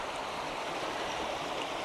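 A river flooded after a hurricane: a continuous, loud rush of flowing water, steady and close throughout with no pauses and no talking.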